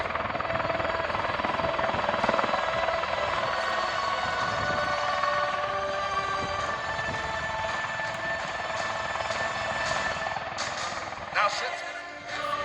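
A Bell Boeing V-22 Osprey tiltrotor flies at the Thunder Over Michigan airshow in Ypsilanti, giving off a steady, droning rotor roar that fills the scene while a voice talks over it.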